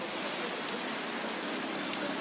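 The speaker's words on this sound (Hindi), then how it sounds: "वहाँ पे भी बारिश जो है बराबर जारी है" Steady heavy rain in Srinagar, Kashmir hisses evenly throughout, a dense, continuous wash of drops with no voices.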